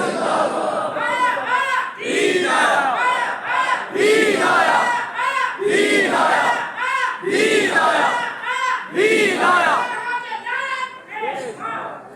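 A large crowd at a religious gathering during Muharram chants the Khatm-e-Nabuwwat slogan in loud, rhythmic call-and-response bursts, voices swelling together in repeated waves throughout.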